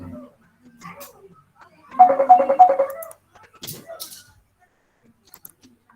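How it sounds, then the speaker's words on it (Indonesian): A phone ringtone plays for about a second, a bright repeating electronic melody, with someone talking briefly before and after it. "Sebentar ya, ada telepon nih."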